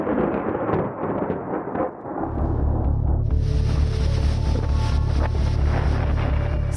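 Roaring sea waves whipped up by Cyclone Tauktae form a dense, continuous wash that swells louder partway through and holds a heavy, steady low rumble, with no voices.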